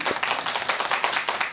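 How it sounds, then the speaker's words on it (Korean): Audience applause at a meditation lecture event, a dense patter of many hands clapping together, fairly loud and steady for a short stretch with no voices over it. "다시 한번 감사의 박수를"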